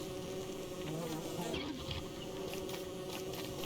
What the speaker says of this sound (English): Oh, I love bees.